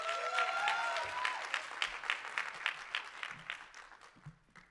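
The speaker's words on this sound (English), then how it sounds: "Let's give her a warm round of applause." Conference attendees at a morning plenary session give a warm round of applause, a moderate spread of clapping that thins into sparser, distinct claps as it fades, with a brief tonal sound near the start.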